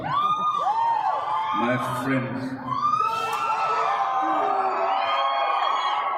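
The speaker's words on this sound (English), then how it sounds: "Of course, when he comes out, there's a lot of applause." Thousands of convention fans in Hall H cheer, whoop and applaud in a loud, continuous roar, with a voice speaking over the crowd throughout.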